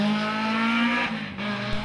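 A Mini Cooper Countryman rally car in testing on an asphalt stage, its engine droning loudly and steadily at high revs nearby, with a brief dip and a shift in pitch partway through.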